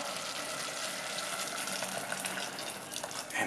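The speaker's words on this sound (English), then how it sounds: "after a little bit of frying, has come the time to" Water pours into a hot pot of frying minestrone vegetables, a steady hissing sizzle and gushing splash that stays fairly constant throughout.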